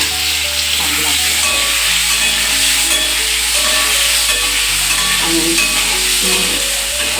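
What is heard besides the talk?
white cumin seeds tempering in hot oil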